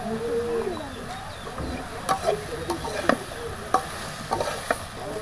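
Green chillies and vegetables with spice powder fry in a pan, a moderate sizzle with scattered spoon scrapes and clicks, a voice briefly audible at the start.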